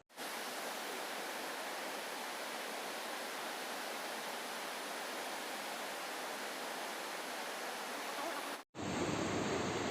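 Ludu waterfall in Kandhamal roars as a dense, steady rush of falling water close by, filling the clip almost without change before a brief cut to a different, rougher stretch of the same noise.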